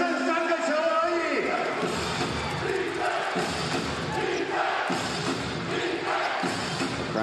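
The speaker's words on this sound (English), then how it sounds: "The crowd getting into it." A basketball arena crowd cheers and roars during a PLG game between the Taoyuan Pauian Pilots and the Hsinchu Toplus Lioneers. The loud, sustained noise surges in waves while a commentator talks over it.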